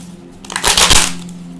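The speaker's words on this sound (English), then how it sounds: "I'm going to shuffle a little more and see if we can get into a better flow with the cards." Tarot cards are shuffled in one quick, loud, crisp riffle burst lasting about half a second, close up with no talk over it.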